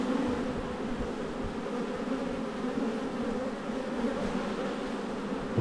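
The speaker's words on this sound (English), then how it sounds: "coax these bees back in as well" Bees at a top bar hive buzz in a dense, steady drone that stays close and even throughout, with no voices.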